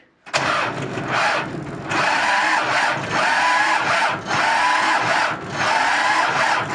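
An Ursus C-360 tractor engine cranks over on the starter in long labored bursts, a loud rhythmic churning that pauses briefly between attempts without catching.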